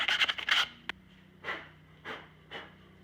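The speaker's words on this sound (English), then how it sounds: "So, just going to use a little sandpaper just off my sander." A Rockler router dust shroud is sanded by hand with sandpaper at close range: a quick flurry of short rasping rubs, then three slower, evenly spaced scraping strokes.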